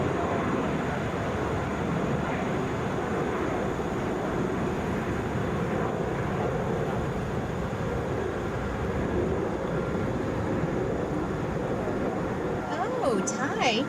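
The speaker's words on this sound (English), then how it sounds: "Taking off now, Delta 2032 headed to Louisville," A Delta Boeing 717 jet takes off at Atlanta International Airport, a broad, continuous engine roar heard from a distance that stays steady throughout, with a voice speaking over it.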